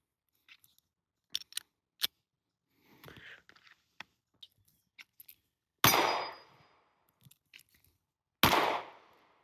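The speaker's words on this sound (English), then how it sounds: "So let's shoot." Pistol shots fired from concealment with a red dot sight, two sharp loud reports spaced a few seconds apart, with scattered clicks and handling noises before them.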